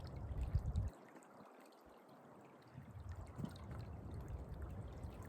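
Stream water trickles and pours into a bottle held in a cold stream, a steady liquid gurgle that briefly drops away and then resumes, close and moderately loud.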